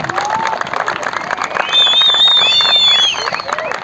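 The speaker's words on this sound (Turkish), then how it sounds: "Bütün Altın Ordu ailesi kendinizi bir alkışlar mısınız bakalım?" A crowd of families claps and cheers at a children's football festival, with shrill whistles and excited shouting rising over the steady patter of applause.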